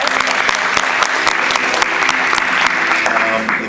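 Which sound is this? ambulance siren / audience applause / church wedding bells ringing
audience applause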